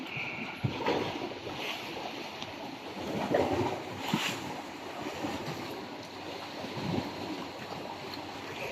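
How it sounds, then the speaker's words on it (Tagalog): Strong sea waves surge and wash around a small fishing boat out on open water, rolling and gusty with wind buffeting the microphone, and there is no talk. "Dahil sa malakas ang alon"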